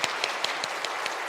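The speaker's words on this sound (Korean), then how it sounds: "이런 마음으로 우리 박수 치겠습니다." A church congregation claps during a Sunday worship service, a brief burst of sparse, fairly regular claps from a small group, soft and slightly distant, with no voices.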